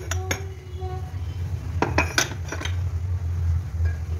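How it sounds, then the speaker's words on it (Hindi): Glass dishes clink and knock as they are arranged and set on a shelf at home, with a few sharp separate clatters over a steady low background hum. "बर्तन बहुत सेट करने बाकी, ऐसे मतलब घस घस के ऐसे रख रही हूँ, तेजू ने आधे लगाए आधे नहीं लगाए"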